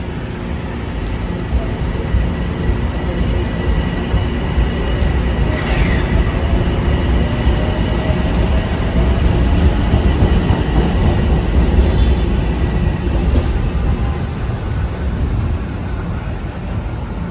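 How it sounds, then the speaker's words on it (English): Train 853, the Red Bull Express from Grand Central to Poughkeepsie, rumbles past steadily and loudly in Harlem, with a brief horn blast rising early on and faint clatter of the cars throughout. "that horn announces Red Bull Express, train 853, Grand Central Poughkeepsie"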